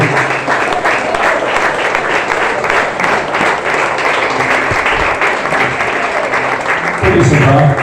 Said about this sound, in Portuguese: Pode aplaudir a palavra do Senhor.